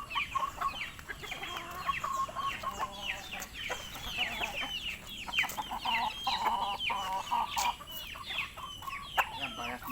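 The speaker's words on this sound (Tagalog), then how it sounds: "Ganting manok yan, ganting manok." A roughly 5-kilo gamefowl rooster of Kilson bloodline clucks and calls steadily and close up in a farmyard, with restless chattering that rises into louder, crow-like cries over a constant background hum.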